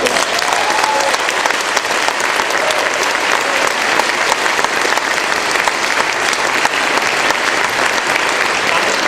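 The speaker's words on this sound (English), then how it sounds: "Give him another round of applause" A rally crowd at a Yes on 88 event in Oregon gives the governor a loud, sustained round of applause, thick clapping filling the whole stretch without a break.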